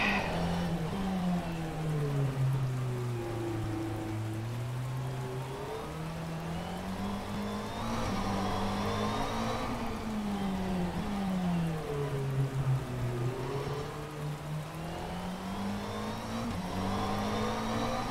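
A GT3 race car in rFactor 2 drives a fully wet track, its engine note rising and falling in repeated sweeps as it accelerates and shifts through corners, with a constant spray-like hiss beneath.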